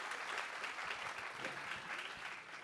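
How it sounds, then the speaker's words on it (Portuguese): Audience applause at a Feira do Livro 2025 book fair panel: dense, steady clapping from a crowd that holds at an even level throughout, with no voices over it. "Uma salva de palmas para o nosso"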